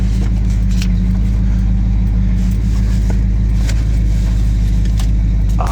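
A 1967 Plymouth Satellite engine idles loud and close after a cold start, a steady low rumble with light rattles and a faint metallic jingle running throughout.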